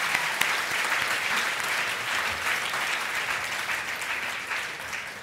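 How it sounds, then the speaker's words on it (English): Steady, full applause from an evening oratorical contest audience honoring the judges, a dense wash of many hands clapping continuously for several seconds, fading slightly at the end. "I'm tempted to ask you for another round of applause for them."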